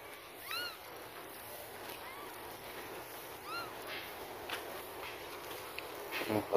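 An abandoned kitten gives a few thin, high meows, spaced out over steady outdoor background noise, with faint footsteps and a short clatter near the end.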